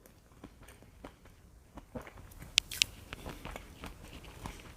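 A crunchy bulgur wheat snack is bitten and chewed up close. Soft irregular crunches repeat, and two sharp crisp cracks stand out in the middle.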